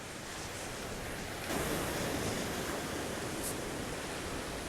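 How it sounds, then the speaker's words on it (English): Sea waves wash in the background at dawn, a broad, steady roar of surf that swells slightly partway through, with no talking. "you could probably hear the sea in the background"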